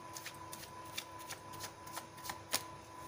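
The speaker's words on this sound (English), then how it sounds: "I feel like taking few more cards over here just to see what's there in store." Tarot cards are shuffled and drawn close by, a series of soft riffling flicks and slides at irregular intervals, quiet and with no talking.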